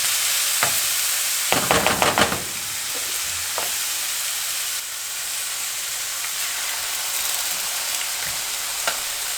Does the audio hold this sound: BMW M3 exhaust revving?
no